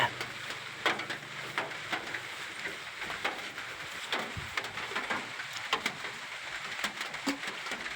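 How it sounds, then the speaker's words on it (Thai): Light morning rain falls around a planted forest, a faint steady patter with scattered soft drips and taps, fairly quiet throughout. "ฝนตกค่ะ"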